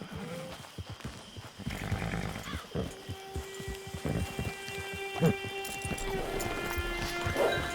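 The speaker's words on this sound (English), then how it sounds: "Get your horse." A horse in the video game Red Dead Online snorts, whinnies and stamps its hooves nearby, a series of close, irregular animal sounds over a soft ambient hum with some tonal game music.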